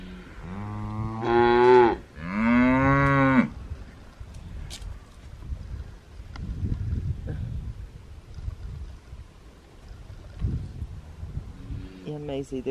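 Two loud moos from Angus cattle come close together near the start, followed by quieter rustling and background noise, with another moo beginning at the end.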